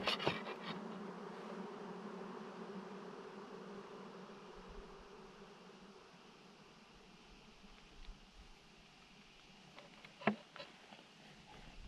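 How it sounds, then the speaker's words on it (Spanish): A swarm of bees passes on the summit trail of Cerro Tólica, a steady droning buzz that swells near, then fades away over several seconds, with a few sharp knocks toward the end. "Acaba de pasar un enjambre de abejas."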